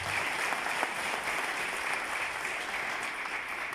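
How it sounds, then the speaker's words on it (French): A crowd at a veterinary conference in Benin claps steadily in a dense, continuous burst of applause that fills the room. "Oui, les applaudissements"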